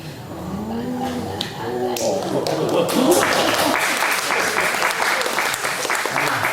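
Congregation applause during a Sunday church sermon, a dense crowd of clapping that builds after a voice speaks over the start and then carries on steadily and fairly loud.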